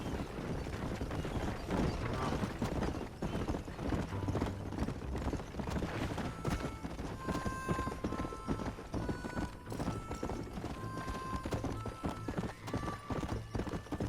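Galloping horse hooves pound in a fast, continuous rhythm during a horse race in Red Dead Redemption, loud and close, with a whinny and game music cues layered over the clatter.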